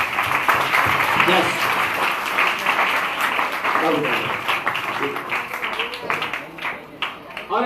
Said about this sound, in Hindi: अब जरा तीनों टीम्स के लिए तालियां बजा दें एक बार